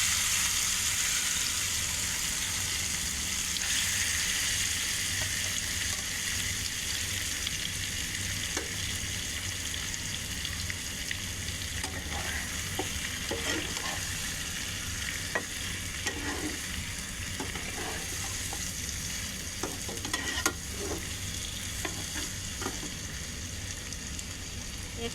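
Marinated country rooster meat sizzles in hot oil with bay leaves and cumin, a constant close frying hiss broken by repeated spoon scrapes and clatters of stirring, especially in the second half.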